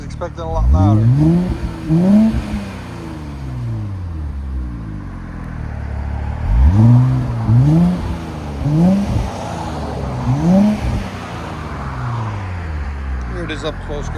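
A 2021 Infiniti Q50 with a 3.7L V6 and an Invidia Gemini cat-back exhaust revs repeatedly, rising and falling in loud bursts close by, with an idling rumble between revs and voices talking over it.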